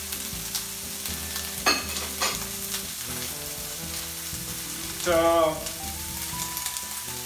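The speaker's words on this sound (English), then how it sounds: "hopefully you guys can hear the sizzle." Zucchini sizzles steadily in a hot pan at low volume, with a few utensil clinks and a brief spoken word.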